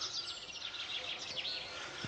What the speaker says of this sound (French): Entendre les oiseaux, être chez soi, les voir sortir comme ça.